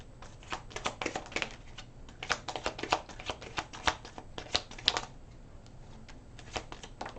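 Tarot cards are shuffled close by in a steady run of quick papery riffles and flicks, some louder than others, over a faint background hiss with no talking.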